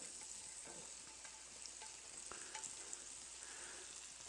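Chopped onion and garlic cook in melted butter in a pan, giving a faint, soft sizzle with a few light clicks from stirring and no voices.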